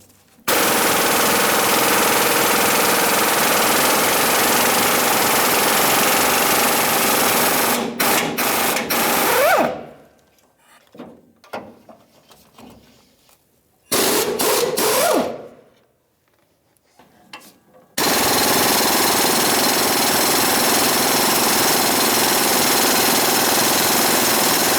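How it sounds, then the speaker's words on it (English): Impact wrench with a 21mm socket on the shackle U-bolt nuts of a 1992-1996 Ford F-150, loud sustained buzzing hammering bursts, close, with short gaps and clicks between runs and no talking. "with a 21mm socket, I'm going to remove the nut on each one of these shackle U-bolts"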